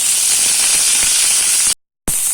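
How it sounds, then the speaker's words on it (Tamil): Onions and green chillies sizzle in hot oil with fennel seeds, a steady bright hiss broken by a brief silent gap, with no talk. "சோம்பு பொரிஞ்சு வந்ததுக்கு அப்புறம் வெங்காயம், பச்சை மிளகாய் 2 சேர்த்து நல்லா வதக்கிக்கலாம்."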